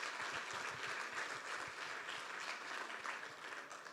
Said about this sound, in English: big round of applause for all of those who have been responsible for that.